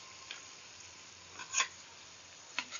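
Chicken adobo cooking in a pan is stirred, giving a soft, low sizzle broken by a few quiet utensil clinks and scrapes against the pan.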